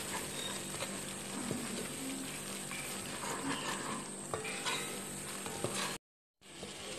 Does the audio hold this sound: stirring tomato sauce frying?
yes